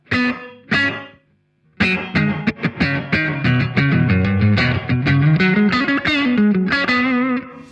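Distorted electric guitar through a BOSS RV-500 early reflections reverb plays chords and single notes with a short roomy ambience, starting with two plucked hits, a pause, then continuous playing.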